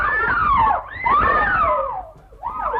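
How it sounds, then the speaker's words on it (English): A woman shrieks in a 1936 film, rising and falling high wails repeated in a few long bursts with short breaks, loud and close. "All right, enough with the shrieking already."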